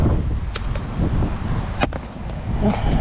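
Strong wind buffets the microphone in a steady low roar, with a few brief crackles and thumps breaking through.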